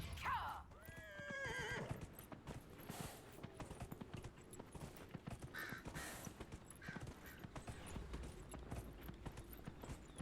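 A horse whinnies loudly at the start in the video game Dragon Age: Inquisition, followed by a steady clip-clop of hooves continuing throughout.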